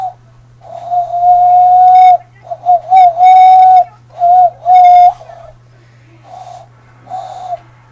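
A person whistles in imitation of an owl call: a series of clear, sustained hooting tones in uneven bursts with short pauses, loud and close against a low steady hum.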